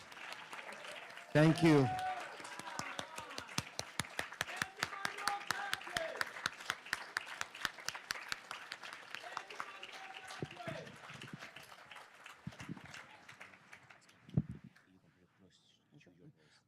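Audience applause at a policy forum in Washington, D.C., a steady patter of many hands lasting most of the stretch and fading out near the end, with a voice speaking over it at the start and brief talk afterward.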